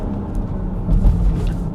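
A BMW X3 M with an Active Autowerke exhaust on its S58 engine accelerates hard, giving a loud, continuous low rumble that swells and holds through the pull.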